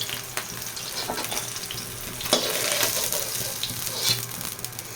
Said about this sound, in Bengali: তো সবগুলো মাছ আমি এভাবে ভেজে নেব।